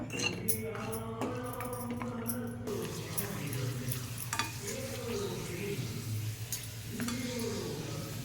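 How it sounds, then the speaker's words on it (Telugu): Papads frying in hot oil in a home kitchen, with a steady low sizzle and bubbling running throughout, plus occasional stirring clinks, moderately close and fairly quiet. "ఇప్పుడు మనం అప్పడాలు వేగించుకుందాం ఇదిగోండి వేసాను"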